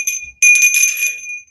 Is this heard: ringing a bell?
yes